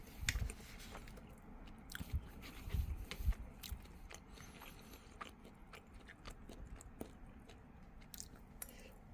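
Quiet, close chewing of Kirkland Signature Italian sausage and beef lasagna, with soft wet bites and squishy mouth sounds repeating irregularly and no talking.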